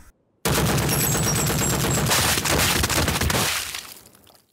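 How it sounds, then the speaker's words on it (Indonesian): Gunfire in an anime comes as a loud, sustained burst of rapid shots with crackling, shattering debris. It starts abruptly after a short silence and fades out toward the end. "muncul Sere yang menembak Anson hingga cengkraman pada Tanya pun jadi terlepas"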